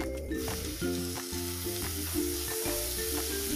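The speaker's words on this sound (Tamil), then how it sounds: "நல்லா வதங்கிடுச்சு இப்போ தக்காளி போட்டுடலாம்" Chopped tomatoes go into a pan of browned, salted onions frying for mushroom biryani, a steady close sizzle with stirring and clinking running throughout.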